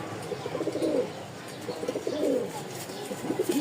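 Pigeons of the Roller Turibaz and Rajshahi Giribaz breeds, held for sale, cooing in a few soft repeated bursts at close range over a faint background hiss, with no talk.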